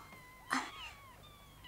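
A kitten gives a single short meow in a quiet room, followed by faint, thin whining cries, with no one speaking.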